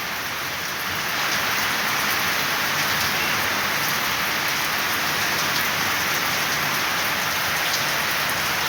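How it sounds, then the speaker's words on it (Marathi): Steady, heavy late-season monsoon rain pours down continuously, a dense hiss of drops hitting surfaces with no pauses and no voices. "परतीचा पाऊस किती वाजत गाजत जाऊ राहिले"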